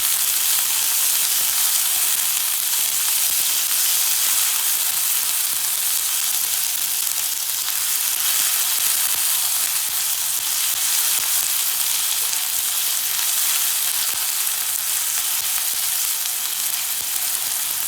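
Chopped tomatoes frying in a pan while being stirred lightly, a steady, loud sizzle that hisses on without a break, close by, with no talk.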